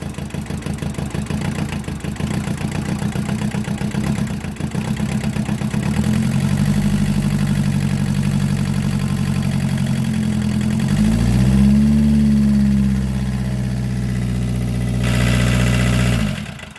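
Close, loud engine idling roughly with a steady uneven chug that rises in pitch midway and holds a faster idle before dropping back near the end.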